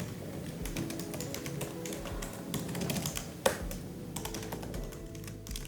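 Steady computer keyboard typing, a run of quiet close taps with one sharper keystroke partway through, under soft room noise during a short writing session.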